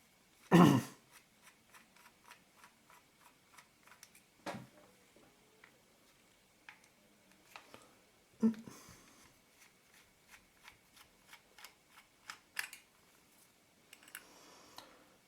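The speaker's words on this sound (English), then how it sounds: "So those 4 screws, all the same length, need to be unscrewed." Small screws of the same length being backed out of the shutter retaining ring of a Werra 1 Synchro Compur camera with a flathead screwdriver: a steady series of faint, tiny clicks and ticks with a few sharper knocks, no talking.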